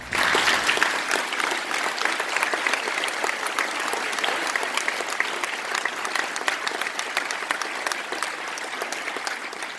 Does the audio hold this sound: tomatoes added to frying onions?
no